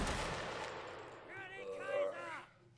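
A musket volley fires in a Napoleonic Wars video game: one loud, crackling burst of massed shots that fades away, followed by voices talking.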